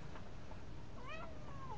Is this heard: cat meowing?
yes